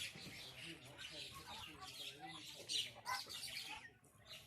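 Chickens cluck from nearby among other birds outdoors, a continuous mix of fowl calls and chatter with a few louder squawks toward the end, while a person talks over them.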